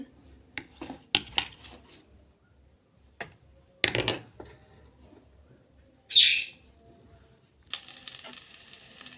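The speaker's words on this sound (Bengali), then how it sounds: "তেলটা গরম হয়ে গেছে এবার আমি দিয়ে দিতেছি আগে থেকে কেটে রাখা পেঁয়াজ আর রসুন" Chopped onion and garlic dropped into hot oil in a curry cooker pot while cooking mutton nihari, giving scattered clatters and stirring knocks, a sharp hiss burst, then a steady sizzle.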